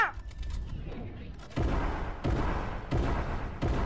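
Gunfire in the video game Fortnite: repeated loud bursts of shots in quick succession, each a sharp broadband crack with a rumbling tail, with a voice talking in the background.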